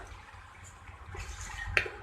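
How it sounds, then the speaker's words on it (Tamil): A little water poured into tomato-based chop suey sauce, a soft liquid splash and trickle that grows louder midway and ends with a brief sharp clink, fairly quiet with no talking. "இப்போ இதில் கொஞ்சமாக தண்ணி ஆட் பண்ணிக்கலாம்."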